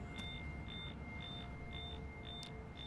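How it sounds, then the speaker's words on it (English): Short, high electronic beeps repeat at a steady pace, about two per second, in the video game Tales from the Borderlands, clear above a constant low rumble of game ambience. "Keeps beeping."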